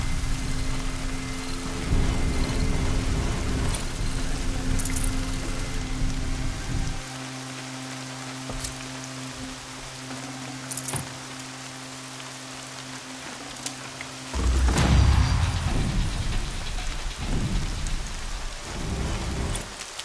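Steady rain with low rolling thunder in a PS4 video game, a continuous wash of rainfall joined by a deeper rumble that swells in the middle and again toward the end, with no talking.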